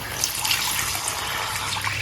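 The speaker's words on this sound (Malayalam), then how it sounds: "അത് വേവിക്കാൻ ആവശ്യമായിട്ടുള്ള വെള്ളം ഒഴിച്ച് നമുക്കിതൊന്ന് അടച്ചു വെച്ച് വേവിക്കണം" Water is poured into a cooking pot holding jackfruit seeds and tubers, a steady close trickling splash that keeps going for the whole stretch.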